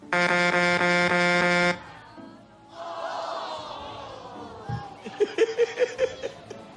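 A loud, steady horn blares for under two seconds, then gives way to a crowd laughing and chattering.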